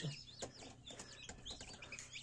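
Newly hatched chicken chicks chirp in short, high, repeated peeps, several overlapping calls close by and fairly quiet.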